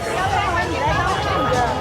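Dense crowd chatter fills the air at a large outdoor Latin festival in Canada, a steady babble of many overlapping voices with no pauses, close and fairly loud throughout.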